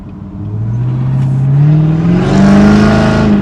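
Chevrolet Camaro ZL1 engine revving up, a loud deep tone rising steadily in pitch and building in strength as it climbs, close and alone.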